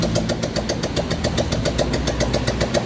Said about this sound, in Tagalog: wala tambucho kaya maingay